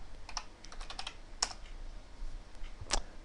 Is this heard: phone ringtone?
no